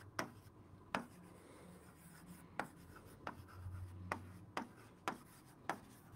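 Hand writing on a surface, quiet and close, with sharp periodic tapping strokes roughly every half second between soft scratching.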